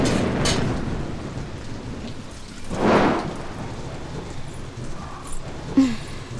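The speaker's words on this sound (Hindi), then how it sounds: "बहुत जोर की बारिश हो रही है।" Heavy rain pours steadily and densely, with a low roll of thunder swelling midway and fading, plus a few faint knocks near the end.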